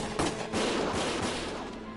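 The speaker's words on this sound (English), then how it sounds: "Gunfire!" Gunfire crackles in a Valkyria Chronicles battle scene, a burst of overlapping shots with thumps running steadily through two seconds of dense combat noise.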